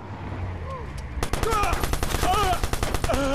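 Rapid automatic gunfire in the video game Watch Dogs breaks out after a quieter stretch and continues as a dense, loud burst of shots with overlapping ringing tones.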